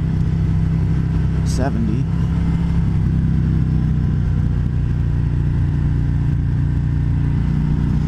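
A 2020 Harley-Davidson Road King Special FLHRXS motorcycle engine drones steadily while riding, a loud, constant low rumble with wind noise, as a rider talks over it throughout.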